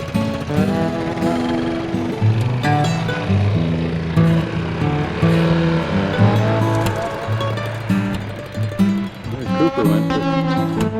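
A Vespa scooter's engine, just repaired, runs loud and steady for the whole stretch with a buzzing, droning tone that rises and falls.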